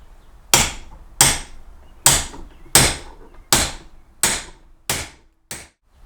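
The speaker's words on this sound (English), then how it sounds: "Tap it home." Eight sharp hammer taps spaced about two-thirds of a second apart, driving a steel bearing race into a utility or boat trailer wheel hub; close, crisp metallic knocks with short decays and no talking.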